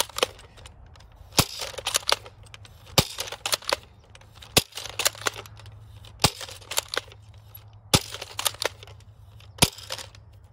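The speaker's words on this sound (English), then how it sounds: "Now shooting some Streamlines out of the deploy." Nerf N-Strike Deploy blaster firing Streamline foam darts, a series of sharp snapping shots spaced roughly every one to two seconds, with softer clicks and handling noises between them.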